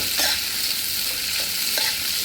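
Capsicum fries in a pan for beef chilli, with a loud, continuous sizzle and a few distinct scraping strokes of a spatula stirring the pieces.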